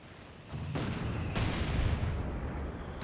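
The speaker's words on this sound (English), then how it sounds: "now he's using artillery" Artillery fire in Company of Heroes 2 booms in after a short quiet start, then a dense, loud rumble of blasts and crackling follows and carries through to the end with no talking.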